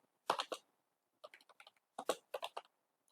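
A new computer keyboard clatters under close, quick typing, with short clusters of keystrokes separated by brief pauses and no talking.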